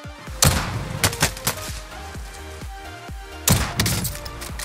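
Kar98 rifle gunfire in the Warzone battle royale game, several sharp close shots with ringing echoes in a loose irregular sequence and no talk.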